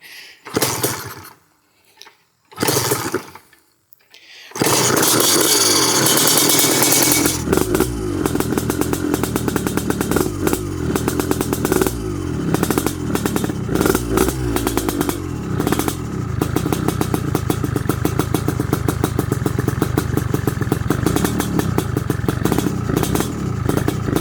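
An abandoned Yamaha TRI-Z 250 three-wheeler, left outside for decades, sputters a few times, then catches and runs loud and close. The two-stroke engine revs in a steady, crackling idle without a break.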